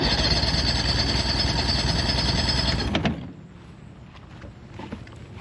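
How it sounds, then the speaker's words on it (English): A used two-stroke outboard engine cranks over for a compression test, a loud, fast, rapid chugging that runs steadily for about three seconds and then stops abruptly, leaving quiet room noise. "So we're going to turn over the engine again for the bottom cylinder."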